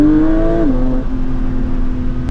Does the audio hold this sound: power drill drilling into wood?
no